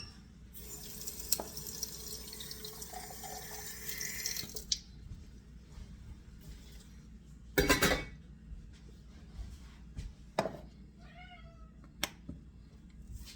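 Water from a tap runs into a pan while veal liver cooks, a steady splashing flow for several seconds, followed by a few sharp clinks and a cat meowing nearby.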